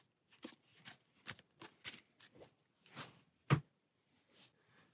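Dune Imperium board game cards being handled and shuffled, a run of short crisp riffles and slaps with brief pauses between them, close and fairly quiet, with no talking.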